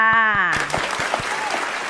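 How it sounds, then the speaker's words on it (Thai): A short burst of clapping from children in a classroom who are applauding themselves, starting after a teacher's brief sung or spoken phrase and continuing as light, scattered claps. "เด็กๆ เก่งมากเลยนะคะอ่ะปรบมือให้ตัวเองหน่อยค่ะ"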